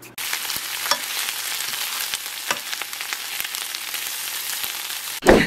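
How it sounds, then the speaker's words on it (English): Spinach wilts in avocado oil in a skillet with a loud, continuous crackling sizzle and scattered pops, ending in a sharp clatter. "we're going to let this saute down and wilt down really well"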